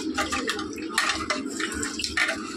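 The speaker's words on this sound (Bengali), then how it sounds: "এবার চালটা ধুয়ে নেব।" Rice being rinsed and rubbed by hand in a bowl of water, a steady wet sloshing and splashing with small surges of swishing, close and moderately loud, with no talk.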